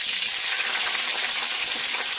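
Green chillies sizzle and fry in hot oil with fennel seeds and curry leaves for a mutton curry, a steady close crackle with no pauses.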